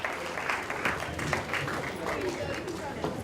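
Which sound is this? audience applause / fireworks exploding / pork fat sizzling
audience applause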